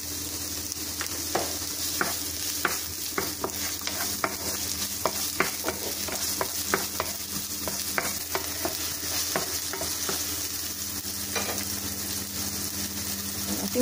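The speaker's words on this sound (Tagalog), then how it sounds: "ihulog natin ating" Onions dropped into hot oil and sautéed for sotanghon guisado, a constant close sizzle with frequent rhythmic spatula taps and scrapes against the pan, with no one speaking.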